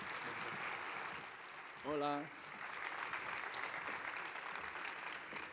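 An audience applauds at a research workshop in a steady wash of clapping that runs the whole time, with a brief spoken greeting heard over it near the middle.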